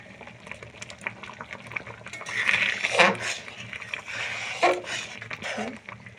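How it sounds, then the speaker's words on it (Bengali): A pot of Bengali winter vegetable lentil dal simmers and bubbles with a steady soft gurgle and a few louder pops and stirs, close by. "এখন আমি ফোটার জন্য ছেড়ে দেব"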